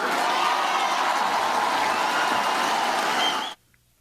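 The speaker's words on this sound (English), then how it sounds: "So CPAC heard cheering for a more aggressive war in Iran." A CPAC conference audience cheers and applauds in a loud, dense, sustained roar of clapping and voices lasting about three and a half seconds before cutting off abruptly into near silence.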